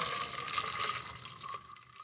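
Liquid pours into a glass with a splashing, gurgling rush, its pitch rising slightly before the flow tapers off.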